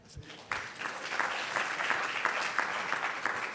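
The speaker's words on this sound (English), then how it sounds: "it's probably not a bribe to give you a clap as well" An audience at the HS&T Hokie Pitch 2018 event claps for the judges, with brisk applause that swells quickly after a brief opening and carries on evenly to the end.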